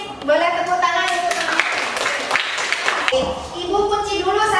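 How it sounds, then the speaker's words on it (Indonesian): Students in a high school history classroom clap briefly after a question, a short burst of applause in the middle with voices talking before and after it. "Boleh tepuk tangan"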